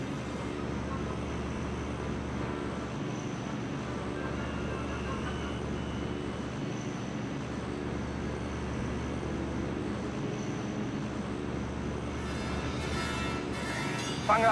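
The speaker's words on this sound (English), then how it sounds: "you have JU-88 taking off from the secondary airfield to the south" In Secret Weapons Over Normandy, a steady broad engine drone fills the air as JU-88 aircraft take off from an airfield, with faint voices underneath.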